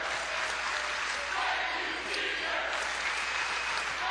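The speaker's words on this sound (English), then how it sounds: "a thank you seniors crowd cheer comes up" A basketball arena crowd cheering and applauding for the seniors near the end of a New Mexico State versus San Jose State game, a continuous, loud roar of clapping and cheers heard from within the stands.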